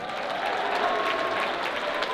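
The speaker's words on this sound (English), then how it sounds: "Much less excited claps." A comedy show audience at the Civic Center in Des Moines, Iowa gives a modest round of applause, a steady wash of clapping at moderate distance for about two seconds.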